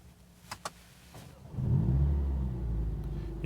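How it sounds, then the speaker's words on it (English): A 2020 Mercedes-AMG CLA45 S 4MATIC+ coupé fires up after a couple of faint clicks, its engine catching with a loud rumbling burst that settles into a steady, close idle. "and if you start the car"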